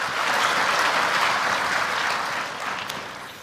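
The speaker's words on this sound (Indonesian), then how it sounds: "Tepuk tangan untuk berita baik boleh." An audience at a political speech applauds with a dense, steady burst of clapping that fades slightly toward the end, with no talk over it.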